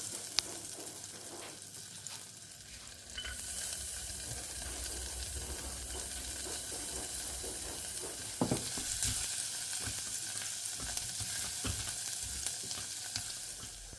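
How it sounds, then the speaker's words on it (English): Four garlic cloves sautéing in melted butter in a pot give a steady close sizzle that rises after a few seconds, broken by occasional stirring scrapes. "Let them saute until they turn aromatic and slightly golden."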